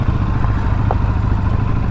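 Benelli TRK502X adventure motorcycle riding off-road, its engine a steady, loud mid-pitched drone with continuous low rumble and faint clatter throughout.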